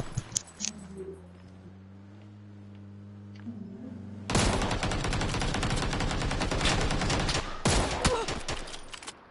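Rapid automatic gunfire from the PUBG video game rattles out in a loud, sustained burst with a short pause, following a calmer stretch of humming engine and game sound.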